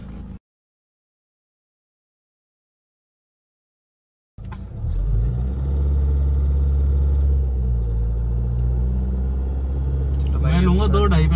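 A Mahindra XUV500 engine runs before a drag race launch, with a steady loud low rumble that starts after a few seconds of silence and holds evenly. Faint talk comes in near the end.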